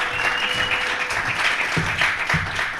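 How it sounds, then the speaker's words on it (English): A live podcast audience applauds as two guests walk to the stage, a loud, dense burst of clapping that holds steady for a few seconds with no talking over it. "Give them a round of applause."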